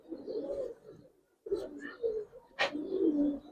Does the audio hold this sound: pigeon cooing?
yes